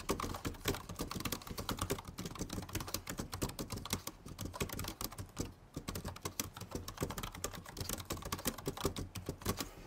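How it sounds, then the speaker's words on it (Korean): Someone types quickly on a lightweight iFlytek AI smart keyboard, producing a close, continuous patter of light, cheap-sounding plastic keystrokes in fast irregular bursts, with brief pauses and no voices. "이제 타건음을 한번 들어볼까요?"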